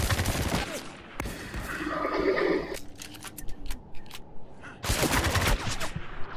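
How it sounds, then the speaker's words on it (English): Machine gun fire in a Spec Ops: The Line multiplayer match: loud rapid bursts of shots, a sustained burst early, scattered single cracks in the middle, then another dense burst near the end, without talk. "There's a guy at the machine gun."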